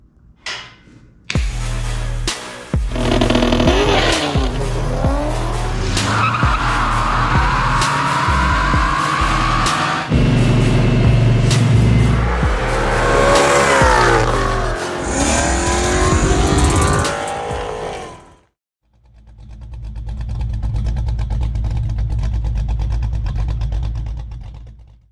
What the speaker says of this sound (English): we fire up my COYOTE swapped King Cobra for the very first time